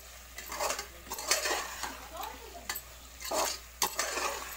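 A spoon stirs masala into egg flower in a pan, giving repeated scraping, clinking strokes in an uneven rhythm. A faint sizzle sits underneath, and the sound is close and moderately loud.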